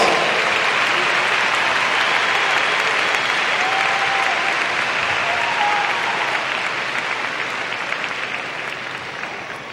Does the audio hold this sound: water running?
no